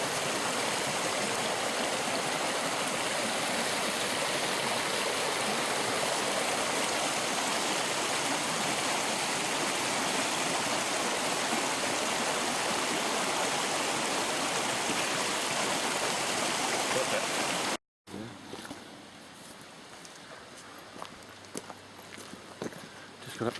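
A moorland stream on Dartmoor rushes steadily near a water bottle being filled, a dense close wash of flowing water that cuts off abruptly, leaving quieter outdoor ambience with faint knocks.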